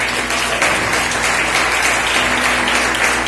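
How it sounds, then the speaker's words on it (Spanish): Loud church congregation applause during a Spanish-language worship service, a thick, continuous crowd of clapping hands over a faint low hum, lasting about three seconds. "bríndale un aplauso"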